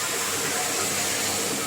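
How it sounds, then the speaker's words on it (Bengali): Hot water poured into a pan of fried vegetables sends up a loud, steady steaming hiss and sizzle that holds evenly throughout, close by, with no voices. "গরম জল দিয়ে দিলাম"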